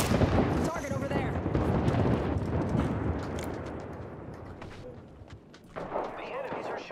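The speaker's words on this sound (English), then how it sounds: "The enemies are shooting at me." Gunfire and explosive blasts in the video game Apex Legends, a dense, loud barrage of booming shots that fades somewhat toward the end.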